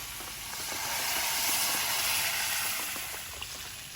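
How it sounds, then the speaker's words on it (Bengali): Hot water poured into a cooking pot while making a Bengali fish and vegetable curry, a broad steady hiss that swells in the middle of the clip and then eases, with no talking. "গরম জল দিয়ে দিচ্ছি"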